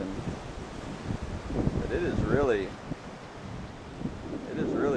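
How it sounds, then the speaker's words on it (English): Strong wind roars on a stormy coast at Paamul, a loud, rushing gust noise buffeting the microphone, while people talk over it in the foreground. "it is really pretty windy."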